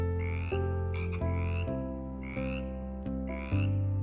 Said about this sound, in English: Little frog.